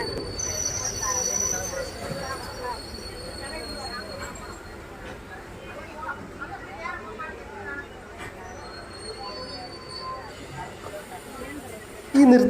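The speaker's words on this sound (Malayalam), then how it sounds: "നിർത്തിയിട്ടിരിക്കുന്ന ട്രെയിനിൻ്റെ തൊട്ടപ്പുറത്തൂടെ ഒരു ട്രെയിൻ ഇതപ്പോൾ മാനാമതിര റെയിൽവേ സ്റ്റേഷനിലോട്ട് ഇപ്പോൾ ഇതാ കടന്നു വന്നുകൊണ്ടിരിക്കുന്നുണ്ട്" Rameswaram–Madurai passenger train pulling into Manamadurai station beside a stationary train, a low rolling rumble with high thin wheel squeals at intervals, a voice talking over it and a loud burst right at the end.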